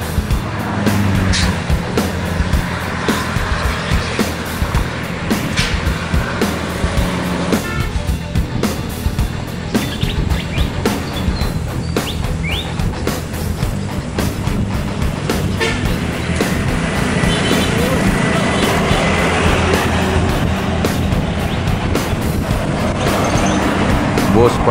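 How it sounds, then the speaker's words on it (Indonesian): A Fajar Riau Wisata tour bus pulls away from Solok, its engine rumbling loud and steady amid roadway traffic noise, with voices talking throughout. "Bus pariwisata"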